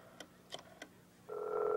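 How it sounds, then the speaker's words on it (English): Three short telephone keypad tones beep at a steady pace, then a steady, louder ringing tone follows, with no talk. "let's call Brenda up on the phone"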